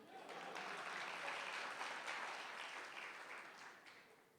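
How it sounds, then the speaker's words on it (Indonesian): Applause from a church congregation at a worship service in Bekasi, a dense, steady wash of many hands clapping that holds at a moderate level and tapers slightly toward the end. "Nanggung tepuk tangannya."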